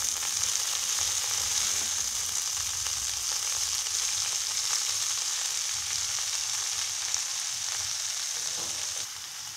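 Cabbage with fish head frying in a pan, seasoned with salt and turmeric, as a spatula stirs it: a steady, close hiss of sizzling oil with faint scraping, continuous throughout with no talk.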